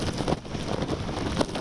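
Strong wind gusts from tropical storm Elsa at St. Pete Beach, Florida, buffeting the microphone as a steady, loud rushing roar with brief surges, no voices over it.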